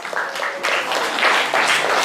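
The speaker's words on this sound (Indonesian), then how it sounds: "Tepuk tangan buat Agus." Classroom applause rising in several bursts of clapping, fairly loud and close, lasting about two seconds.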